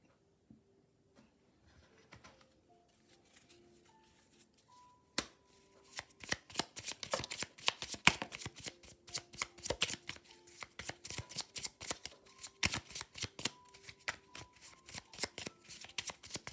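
Angel oracle cards being shuffled by hand, a quiet riffle at first that turns into a rapid run of sharp, close papery slaps and clicks, steady for about ten seconds, with no voices.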